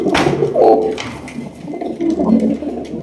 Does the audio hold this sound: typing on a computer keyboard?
no